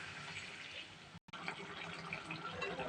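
Splashes of water poured into a pan of eggplant, potato and tomato curry, giving a continuous liquid wash with a brief cut midway.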